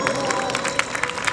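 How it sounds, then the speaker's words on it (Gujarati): Audience applause at a devotional dayro program during an urs gathering in Mahuva, Bhavnagar, heard as a dense, steady wash of many hands clapping from a sizable crowd that carries on without a break. "અહીં આવેલા તમામ માતાજીના ભવાને એકવાર જોરદાર તાળી વધાવો."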